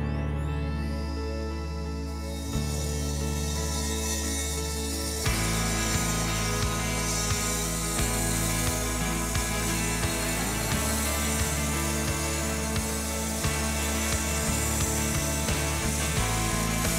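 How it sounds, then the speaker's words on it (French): A cordless Nuron chainsaw running on drill batteries cuts through wood, its motor whining steadily and loudly for several seconds with a rising, strained pitch as the chain bites, with no talking. "est-ce qu'on va réussir à couper à la tronçonneuse avec des batteries de la visseuse?"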